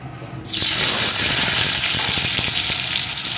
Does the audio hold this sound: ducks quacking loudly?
no